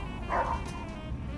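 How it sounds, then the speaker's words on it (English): A dog in a game, later called an angry pit bull, gives one short barking yip, close and moderately loud, with a low background hum running underneath. "Hear the bark?"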